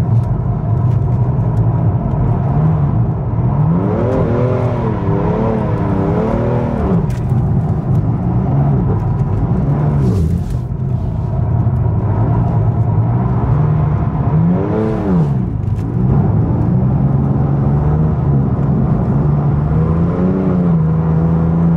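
A BMW M3 drifting, its engine loud and close, revving up and down in repeated swooping cycles with gear shifts and brief pauses between, continuous throughout with no talk.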